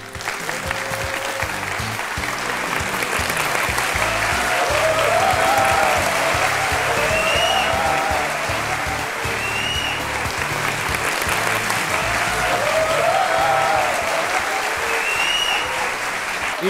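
Loud, dense audience applause greets guest Sanjay Raut on the Aap Ki Adalat courtroom-style TV show, a sustained wash of clapping that holds steady throughout.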